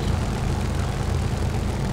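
A Grumman F2A-3 Buffalo's piston engine drones steadily in the War Thunder flight game, a loud, continuous propeller roar with low rumble and no talk.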